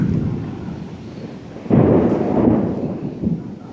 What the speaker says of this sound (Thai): ฟ้าผ่าฟ้าแลบฟ้าร้องฟ้าผ่า